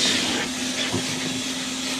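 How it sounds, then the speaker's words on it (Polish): Built-in vacuum cleaner of a 2022 Chrysler Pacifica Limited 3.6 V6 van running with the engine on: a steady, loud rushing hiss with a faint constant hum underneath, close by and without speech. "siła odkurzacza jest naprawdę zadowalająca."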